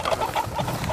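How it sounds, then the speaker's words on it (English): A rooster pheasant flushes from thick cover during an upland hunt, giving a short burst of clucking, cackling calls close by, with no voices. "it was hard to see the rooster, even though it was right at Tanner's feet."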